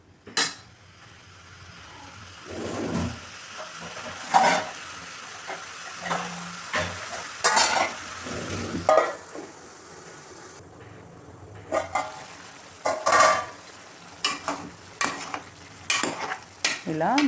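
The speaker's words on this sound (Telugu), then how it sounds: "ఇలా మటన్ అయితే మంచిగా కలిపి మూత అయితే పెట్టుకోవాలండి." Mutton pieces being stirred in a wide pot for a thick gravy curry, with repeated scraping and clinking of a spoon against metal over a low bubbling sizzle, close and steady, with no talking.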